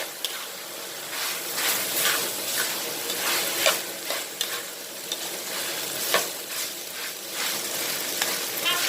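Cooked rice stir-fried with green curry chicken in a hot pan over high heat: continuous sizzling hiss broken by repeated scraping and tossing strokes of a spatula against the pan, close and fairly loud.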